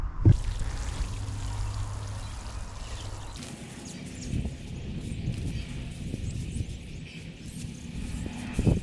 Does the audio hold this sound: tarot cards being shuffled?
no